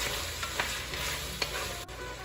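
Red chili peppers and garlic sizzle steadily in a hot pan for jambalaya, a continuous frying hiss with a few soft stirring scrapes, close and fairly quiet, no voices.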